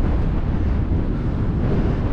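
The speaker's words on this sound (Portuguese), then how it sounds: "Está ventando muito" Strong wind buffets the microphone on Santa Mônica beach in Guarapari, a steady loud low roar filling the whole stretch with no voices.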